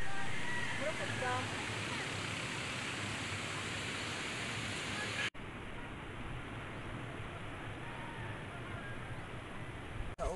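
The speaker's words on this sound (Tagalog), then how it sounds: "Ang sapa sa Masaba." The Masaba River creek rushes in a steady, broad wash of flowing water, loud and close, with a brief cut midway after which the flow continues slightly softer.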